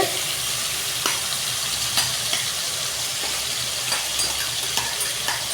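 Onions sizzle and fry steadily in a hot pan for chicken curry with yogurt, a dense continuous hiss with occasional louder pops and stirring clicks, close and loud with no talking.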